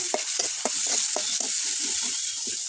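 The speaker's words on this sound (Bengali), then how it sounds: "এই যে আমার কিন্তু পেঁয়াজগুলো ভাজা শেষ।" Onions fry in oil in a village kitchen, giving a bright steady sizzle with a run of rhythmic stirring scrapes close to the pan.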